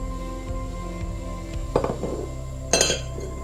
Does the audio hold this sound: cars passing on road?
no